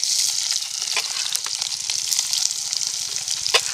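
Green chili and onion sizzle in hot tempering oil, a bright continuous close frying hiss with a few sharp crackles and pops.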